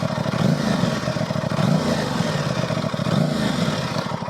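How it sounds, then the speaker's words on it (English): A stock 2023 Aprilia RS660 sport motorcycle rumbles from its exhaust, a close, steady, low pulsing beat with a faint mechanical clatter. "this is probably the best exhaust note I heard in a stock setting on a bike"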